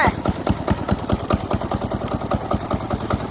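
A small engine runs close by with a fast, steady chugging pulse as the throttle is pressed, loud and even throughout, with a voice speaking over it.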